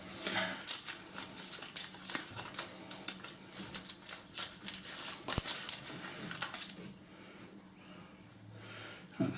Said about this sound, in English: I'll just take this out the wrapper.